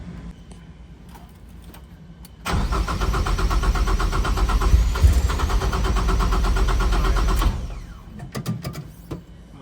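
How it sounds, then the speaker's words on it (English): An Ecoboost-powered BMW E36 engine with a Link ECU cranks and catches on its first start, running loudly and steadily for several seconds before cutting off, leaving quieter background noise. "we ended up getting the car to start and run"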